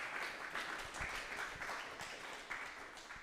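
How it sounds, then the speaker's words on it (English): Quiet, steady applause from an audience after a storytelling performance of origami tales, a soft continuous patter of many hands heard from a distance. "Let's have another round of applause for Kuniko Yamamoto."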